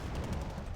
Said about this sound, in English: Huge explosion there.